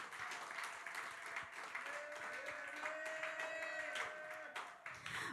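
A church congregation at a Sunday service claps together for the Lord, steady applause held for several seconds, with voices and a sustained tone underneath.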